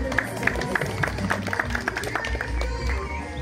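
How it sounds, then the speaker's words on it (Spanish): Applause at a school graduation ceremony, with a crowd clapping steadily and unevenly, the claps loud and close in a dense patter mixed with low crowd murmur. "Las palmas fuertes para la señora Juanita."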